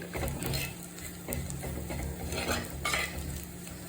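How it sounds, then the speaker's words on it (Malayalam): Spices and aromatics sautéed in a hot clay pan for sardine fish curry, a soft sizzle with scraping stirs and occasional utensil clinks against the pan, close up, with no talk. "നമുക്കൊന്ന് പച്ചമണം മാറുന്നത് വരെ നമുക്കൊന്ന് വഴറ്റിയെടുക്കാം"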